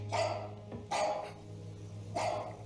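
A dog barks three times at a moderate distance, sharp separate barks spaced about a second apart over a low steady hum, with no voices.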